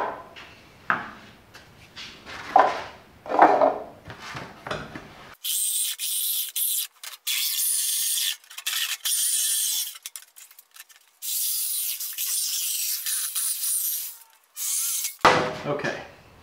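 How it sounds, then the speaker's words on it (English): A jigsaw cuts an opening for an electrical outlet box in a shop air cleaner build, giving loud, steady high-pitched buzzing in two long bursts with a brief pause between, with talk before and after. "So now I'm ready to cut that hole out for this outlet box with the jigsaw."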